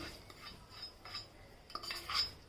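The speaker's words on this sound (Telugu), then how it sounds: "ఇందులో కలిపేసుకుందాం తడకని." A spoon stirs and scrapes tempering with asafoetida into curd rice for bagalabath, giving soft clinks and scraping strokes against the dish, fairly faint and close, with no talking.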